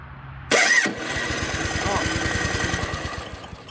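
An old Ariens snowblower engine is pull-started with a sharp rip of the cord, then the engine fires and settles into a steady, close, rhythmic idle chugging.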